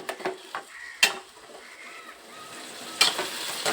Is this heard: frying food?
yes